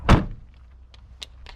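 A door on a 2021 Jeep Wrangler Unlimited Sport S with a soft top opens with a single loud thunk up close, followed by a few faint small clicks.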